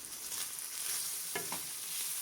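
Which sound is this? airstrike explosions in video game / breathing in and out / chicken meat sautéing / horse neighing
chicken meat sautéing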